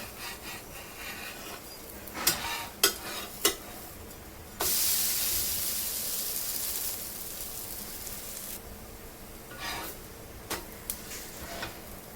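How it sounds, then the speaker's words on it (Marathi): A dosa cooks in oil on a flat pan just after being flipped, giving a soft continuous sizzle that swells loudly for a few seconds mid-clip, with brief scraping and tapping sounds before and after; no one speaks. "तेल सोडून घेऊया. डोशाला आपण पलटी करून घेऊया."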